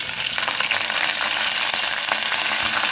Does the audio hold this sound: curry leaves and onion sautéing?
yes